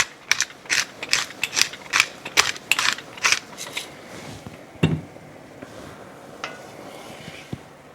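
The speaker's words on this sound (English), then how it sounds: "So I'm going to just grind some fresh pepper in here." A pepper mill grinds fresh black pepper over a pot of rice pilaf, giving a run of close, crisp ratcheting crunches in quick bursts for several seconds, then a few sparser clicks as the grinding tapers off. No one speaks.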